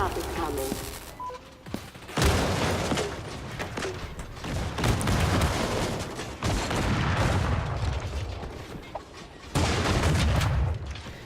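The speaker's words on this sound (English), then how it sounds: "I-turn, rocking out the grenades, trying to take out K-Star. Coming in with that explosive challenge." Grenades explode in Creative Destruction amid a competitive scrim, a chaotic run of repeated booms and gunfire bursts mixed with other game noise, loud and dense throughout.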